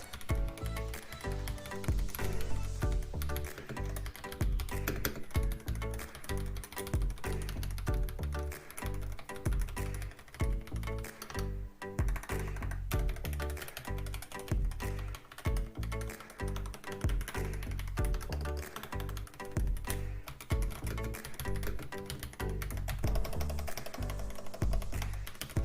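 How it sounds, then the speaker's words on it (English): Fast, continuous typing on a Yunzii X75 Pro transparent mechanical keyboard, with dense, evenly loud clacking keystrokes heard close up for about 25 seconds and no talk. "Let's check the typing together"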